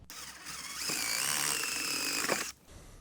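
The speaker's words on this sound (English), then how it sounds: "drill that hole out nice and large" A power drill whirs up to speed, runs steadily at high pitch for about two seconds as it bores a large hole during a camper van switch panel install, then cuts off abruptly.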